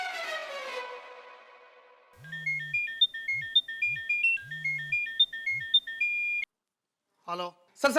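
A phone's electronic ringtone repeats a steady beeping melody for several seconds while a call is being placed, with short low voice sounds between the tones, then stops abruptly.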